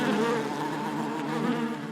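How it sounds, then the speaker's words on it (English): Steady, dense buzzing of bees swarming at a beehive in the video game Book of Hours, loud and close, with no talking. "We have a beehive."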